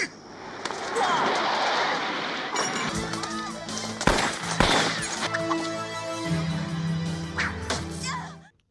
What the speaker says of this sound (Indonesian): Lee yang melihat hal itu langsung memanfaatkan untuk menembaki Chad